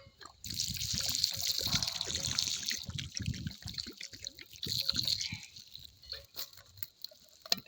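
Warm water is poured in a steady trickling stream that runs for about five seconds, then thins into scattered drips and splashes. No one speaks.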